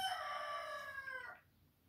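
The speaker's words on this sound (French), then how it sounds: "Je vous laisse avec le coq en attendant" A rooster gives a single crow, fairly close and clear, with a rising call that trails off into quiet at the end.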